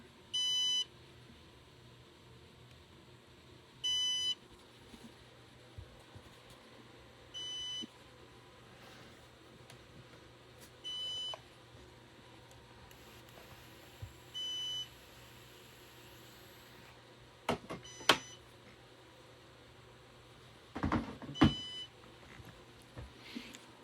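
Short electronic beeps from a Synology DS225+ NAS initializing a replacement hard drive repeat at a steady interval of roughly every three to four seconds over a quiet room hum, with a few louder clunks near the end.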